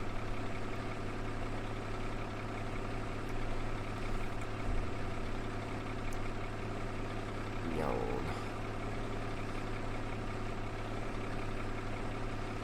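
A tractor engine idles in Farming Simulator 17 during muck spreading, giving a steady low drone that holds evenly throughout, with a brief faint rattle partway through.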